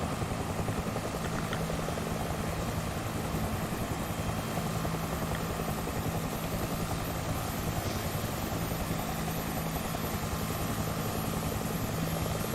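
A Mi-24 helicopter in a multiplayer combat video game flies with a steady, continuous rotor thrum and engine drone, unbroken and fairly loud throughout, with no talking.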